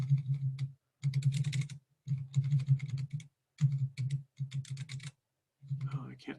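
Rapid typing on a computer keyboard comes in short bursts of clattering keystrokes separated by brief pauses, close and clear, with a low hum running under each burst.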